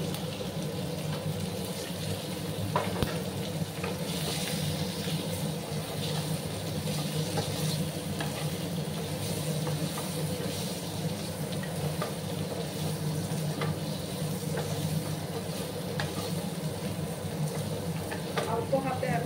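Potato pieces fry with sesame in a pan, giving a steady, even sizzle that runs throughout with occasional stirring clicks and no talk over it.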